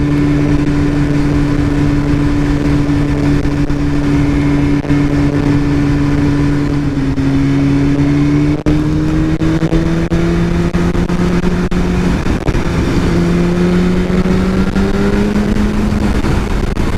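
A 2015 BMW S1000RR sport motorcycle engine drones loud and close while riding, holding a steady high whine that dips slightly, then climbs in pitch through the second half against wind noise.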